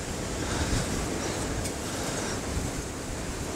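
Wind sweeps across an outdoor vegetable garden on a breezy, mild Christmas day, a steady broadband rush with small gusts that continues without pause and with no voices.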